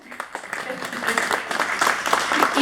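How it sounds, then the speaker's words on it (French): A book fair audience applauds a guest at a Creole-month event in Montreal. Clapping swells gradually from scattered hands into fuller applause, mixed with voices and chatter throughout. "On peut l'applaudir."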